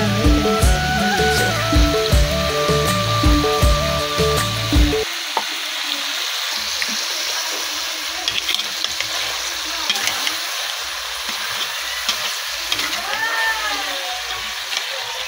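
Masala spices frying in a pan for a Chinese saag dish, first under a loud burst of other sound, then a steady close crackling sizzle with occasional scrapes through the rest.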